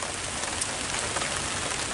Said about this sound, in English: lightning out here with me and hearing it rain.